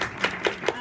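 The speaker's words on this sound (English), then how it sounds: "give you one more round of applause from everybody" An audience gives a round of applause to a group after their final presentation, with a few distinct claps heard briefly in a room.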